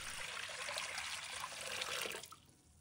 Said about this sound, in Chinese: 接下来起锅，倒入适量的清水